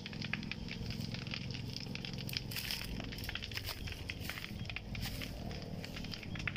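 Brush fire burning beside a river and spreading in the wind, a steady, dense crackle and patter of burning vegetation running continuously at close range with no voices.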